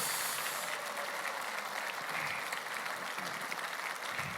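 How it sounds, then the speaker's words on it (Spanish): A church congregation breaks into applause, a faint, distant wash of steady clapping from many people that continues throughout. "Dale ese aplauso fuerte al Señor"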